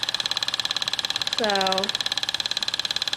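A D5 model steam engine runs with a fast, steady rhythmic chuff. A brief spoken word cuts across the middle, and the beat carries on unchanged.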